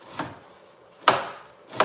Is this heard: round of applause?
no